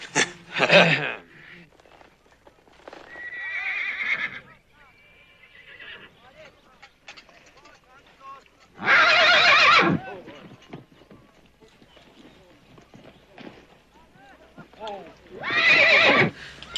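A horse whinnies loudly three times in bursts during a riding lesson, with hooves clip-clopping and people talking between the calls.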